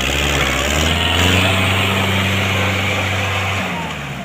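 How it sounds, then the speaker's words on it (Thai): A used Japanese two-wheel walk-behind tractor runs with its small engine idling smoothly at a steady low hum, loud and close, easing off slightly toward the end. "เครื่องนิ่มๆเลยนะครับตัวนี้นะครับเครื่องเกียร์ดีนะครับ"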